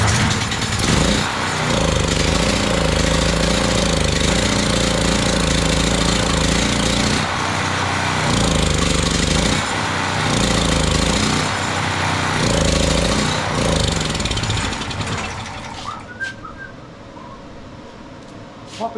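A PowerHorse 4000-watt generator that had been sitting unused runs loudly and steadily for about fifteen seconds, with a rough, pulsing engine note, then cuts out and falls quiet.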